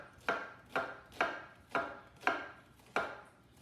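A knife chops a red onion on a cutting board in six crisp, evenly spaced strokes, each a sharp close thunk with a short decay in a quiet kitchen.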